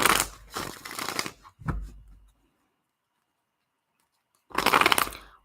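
Tarot cards are shuffled in two quick riffling bursts, close and crisp, then after a pause of silence a third longer burst of shuffling follows.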